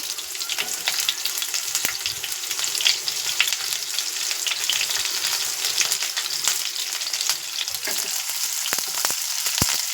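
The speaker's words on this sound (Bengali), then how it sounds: "পেঁয়াজ ভাজা হচ্ছে" Finely chopped onions, in a small amount, fry in a pan over melted sugar, giving a close, even, crackling sizzle throughout with scattered sharper pops and faint clinks.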